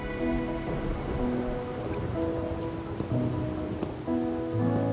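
Steady rain falls in the video game Wuthering Waves, a continuous close patter with faint tonal game music underneath and no voices.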